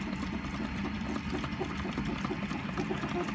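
Small R2-D2 droid drive motor spinning on a bench power supply, giving a steady low mechanical whir with faint rhythmic fluctuation that holds level and close throughout.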